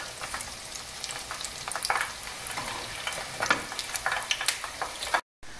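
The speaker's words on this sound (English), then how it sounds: "The minute I started frying" Steady crackling sizzle of Italian angel wings dough frying in hot oil, with brief sharper pops and spatters, close by and continuous, then a short silent break near the end.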